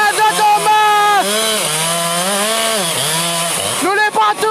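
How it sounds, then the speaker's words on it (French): A chainsaw cuts trees during a nighttime logging operation in the Casabona forest, its loud engine droning continuously and shifting in pitch as it works, with voices around it. "La tronçonneuse, il veut pas."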